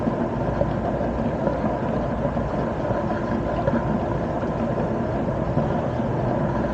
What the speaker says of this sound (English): This jacuzzi has a lot of fizzle, so you might hear the fizzle in the background.